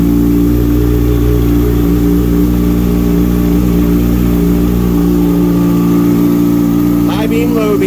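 A 2019 Kawasaki Ninja ZX6R 636 sportbike runs close by just after starting, its steady idle a loud even drone with a faint change near the end.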